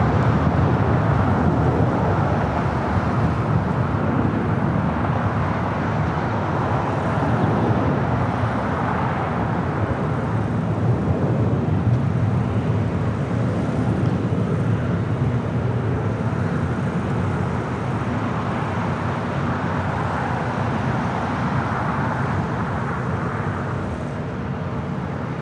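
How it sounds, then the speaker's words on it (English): JetBlue Airbus A321 jet taking off from LAX bound for JFK, a steady broadband engine roar sustained loud and close throughout with no pause. "That is JetBlue 324 taking off to JFK on an A321."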